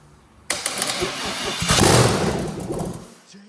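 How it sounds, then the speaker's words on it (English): A rebuilt V8 engine cranks and catches, roaring loudly as it revs up for about two seconds before settling and cutting off, with voices faintly present. "Day 2 of starting the engine."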